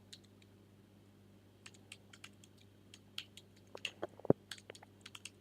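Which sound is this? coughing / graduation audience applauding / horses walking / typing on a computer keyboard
typing on a computer keyboard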